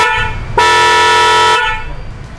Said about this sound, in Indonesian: sekarang kita dengerin nih suara klakson dari mobil keretanya